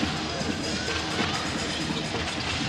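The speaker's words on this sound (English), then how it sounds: "still a raucous crowd for both of these universities" A raucous crowd in a basketball arena at a university women's final, a steady, fairly distant roar of cheering and shouting that holds level throughout, with faint voices mixed in.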